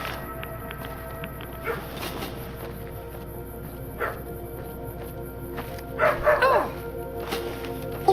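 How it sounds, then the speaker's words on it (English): Cybernetic dogs in Fallout: New Vegas barking and yipping in short bursts over a low game backdrop, with a louder cluster of barks near the end. "I was not expecting to get jumped by Night Stalkers and cybernetic dogs at the same time."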